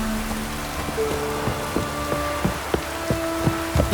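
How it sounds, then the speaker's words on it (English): Light drizzling rain falls steadily in The Witcher 3: Wild Hunt, a soft continuous patter with scattered louder drops and a low game-music drone underneath. "Oh, it's drizzling."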